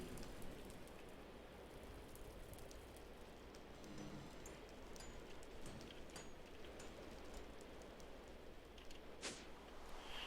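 Steady rain pattering down in a blocky survival video game world, a soft even hiss of drops on surfaces throughout, with no voices.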